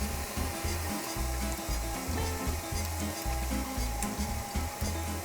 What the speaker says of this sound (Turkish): Mikserimizi alalım